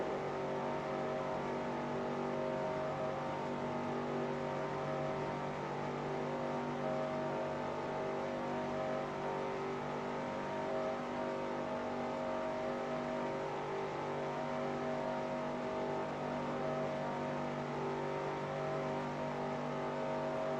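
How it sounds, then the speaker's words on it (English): A racing car engine in a video game drones continuously at a high, steady pitch, loud and unbroken, with no talk over it. "my engine is not revving nearly as high as theirs was"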